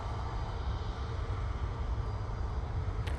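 EasyJet airliner bound for Istanbul, a continuous low jet engine roar with steady broadband rush, moderately distant and constant throughout.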